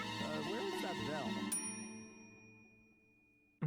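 A bright bell ding rings out in the video game Stray Gods, with a clear struck tone that decays slowly over a soft musical bed, as a voice talks briefly at the start.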